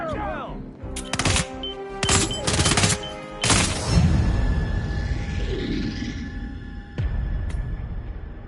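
Hitman 3 gunfire: several dense bursts of automatic fire close by, then a rumbling roar and a couple of isolated sharp shots later, with shouting voices mixed in.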